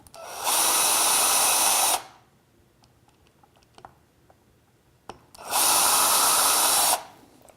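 Two loud bursts of a power drill boring hinge screw holes into a wooden box, each lasting about a second and a half, with quiet handling clicks and small knocks in between.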